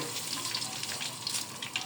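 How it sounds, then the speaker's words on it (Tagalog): Annatto (achuete) seeds frying in hot oil for chicken afritada, giving a steady, fairly faint hiss and crackle that runs unbroken from start to finish with no talking. "Prito natin yung aswiti. Para may kulay."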